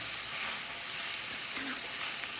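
Garlic, coconut and cumin sizzling in a frying pan for a village-style munaga leaf fry, a steady bright hiss of frying that runs unbroken, fairly close, with no talk.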